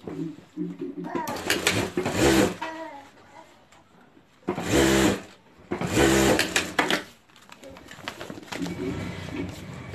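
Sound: sewing machine stitching lining to strap

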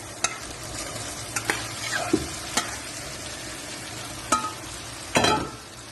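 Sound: potatoes and cauliflower added and stirred into frying masala

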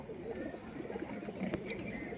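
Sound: pigeons cooing

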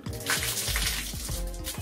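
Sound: water running out of electric shower head

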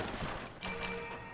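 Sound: gunshots in the video game Resident Evil 6

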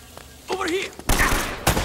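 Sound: enemies shooting guns in Uncharted: Drake's Fortune video game

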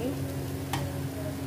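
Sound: stirring paneer into bhurji in a pan

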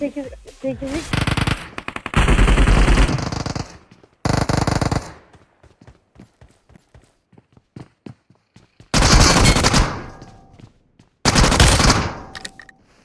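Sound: gunfire in a video game

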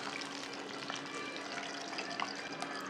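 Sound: crispy chips frying in oil

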